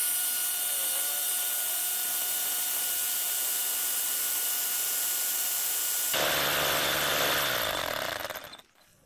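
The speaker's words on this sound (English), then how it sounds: "Then it can hammer drill, good for bits and drills." Power drill boring into granite, a steady loud whine with a high tonal hum that shifts to a harsher, noisier grind partway through before cutting off at the end.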